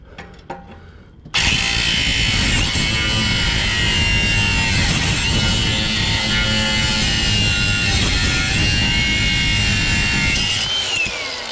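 After a brief quiet start, a power saw bites into a car exhaust part and cuts loudly and steadily for about ten seconds, a harsh grinding roar that stops at the end.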